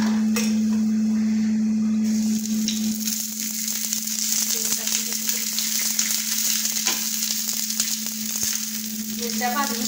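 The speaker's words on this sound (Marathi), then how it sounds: "मिरच्या भाजून घेते ठेचा करायला." Green chilies roast in a pan for thecha, crackling and sizzling close and continuously for several seconds over a steady low hum.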